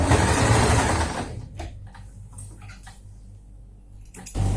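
A sewing machine stitching a girls' summer dress runs in a loud, fast whirr for about a second, then stops, leaving a few brief mechanical bursts and a final short run.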